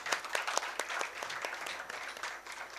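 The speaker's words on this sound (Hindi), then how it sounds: "आइए एक बार जोरदार तालियों से हम अपने सभी वक्ताओं का स्वागत करें यहाँ पे।" An audience at a tourism and peace event in Varanasi gives a round of applause to welcome the speakers, a dense, loud stretch of many hands clapping close by that tapers off toward the end.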